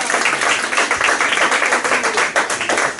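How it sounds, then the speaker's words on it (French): A church congregation applauds, steady dense clapping from many hands filling the room loudly throughout. "Applaudis ton Dieu qui te donne le souffle de vie."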